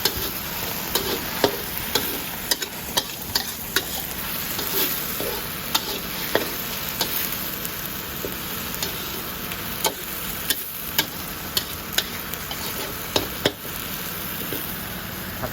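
Chili paste stir-frying in a pan for spicy eel, a steady close sizzle with regular clicking spatula taps against the pan, no talking.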